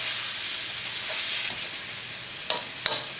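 Tomatoes and salt being stirred in a pan for hotel-style idli sambar, a steady sizzle with a few sharp scrapes of the spoon near the end, close and fairly loud.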